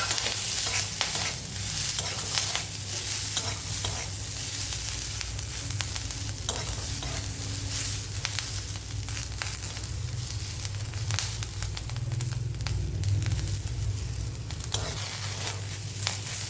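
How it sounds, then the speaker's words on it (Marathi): Cut green chillies fry in a pan with a loud, dense, continuous sizzle and crackle, heard close and alone, with frequent stirring scrapes throughout. "आता आपण त्यात कापलेल्या मिरच्या टाक टाकणार आहोत"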